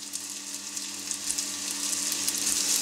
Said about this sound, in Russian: обжариваем мясо